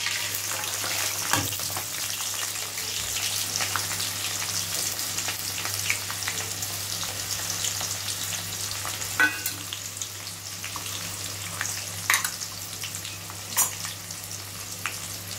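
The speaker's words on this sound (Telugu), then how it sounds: "ఉల్లిగడ్డలు వేగినాయండి." Onion and a bay leaf fry in oil with a soft, steady sizzle, punctuated by occasional spatula clicks and scrapes, heard close and fairly quiet with a faint low hum beneath.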